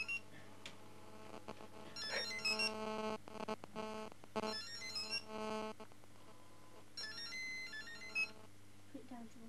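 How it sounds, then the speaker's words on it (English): A phone ringing in a pub, its electronic tonal ringtone repeating in bursts over a steady background hum, with faint chatter around it. "Oh, your phone's ringing."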